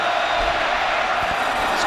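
Large football crowd in Lubbock at the 2008 Texas Tech versus Texas game, a broad continuous roar of cheering held at a steady level from start to finish.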